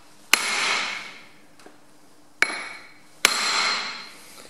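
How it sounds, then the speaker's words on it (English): A big steel punch struck with a hammer on the brake drum screws of a Ferguson TEA20-type tractor: four sharp metallic blows, three of them loud with a ringing tail and one lighter tap, heard alone. "one of the first things I do is grab a big punch, something about the size of the head of the screw,"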